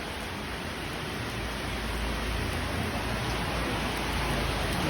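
Heavy rain falls steadily and densely, a loud, unbroken hiss close by with no talk, during a tricycle trip in Antipolo.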